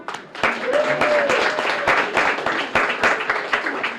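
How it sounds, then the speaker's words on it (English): Lively applause from an audience at a child care fund launch event, dense clapping mixed with a few sharp individual claps and some voices in the background. "How about a clap for you guys?"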